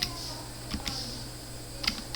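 Code is typed on a computer keyboard, giving a few sparse, quiet clicks spread over two seconds against a faint steady hum.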